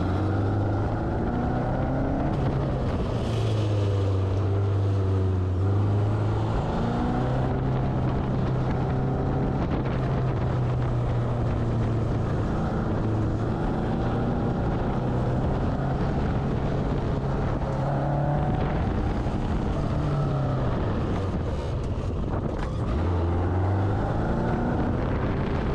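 A race car with Microsquirt fuel injection runs an autocross course, its engine droning and rising and falling steadily through the turns under heavy wind rush, heard from inside the car with no talking.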